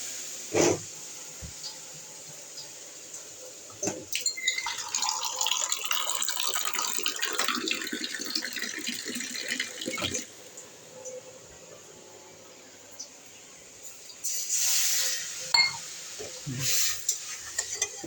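Water is poured into a pan of semolina on the stove, bringing a burst of bubbling hiss and stirring clatter mid-clip between quieter stretches, with a short sharp sizzle near the end and no speech.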